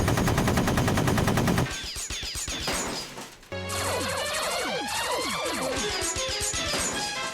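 Rapid laser gunfire from a Sonic the Hedgehog video game, Rouge's stage, with dense repeating zaps and crashes, then a brief pause and a second burst of sweeping, chirping laser shots over game music.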